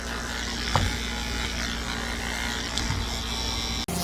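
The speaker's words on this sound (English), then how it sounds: "let's just be really careful using a 10 blade to shave that out" Electric clippers fitted with a 10 blade buzz steadily and close up as they shave matted fur on a Morkie dog, a continuous hum with a brief click near the end.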